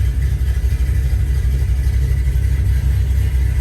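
A 2005-2010 Mustang GT V8 fitted with Ford Hot Rod cams idles close by, a steady loud low rumble with a slightly uneven, lumpy pulse and no voices.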